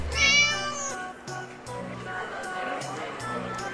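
Game cat meowing in the hidden-object game Mortimer Beckett and the Time Paradox, a drawn-out mew heard up close over looping background music with a steady pulsing beat.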